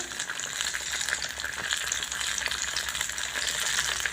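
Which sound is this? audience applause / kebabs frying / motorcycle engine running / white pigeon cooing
kebabs frying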